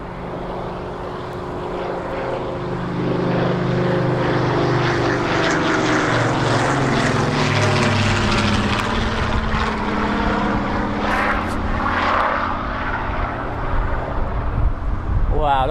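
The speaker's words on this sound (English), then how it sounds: "And here's the Spitfire. Look at that." A Spitfire propeller aircraft flies past at East Midlands Airport. Its loud, sustained engine drone swells in and holds strong for about fifteen seconds, with a rough buzzing tone that shifts as it passes.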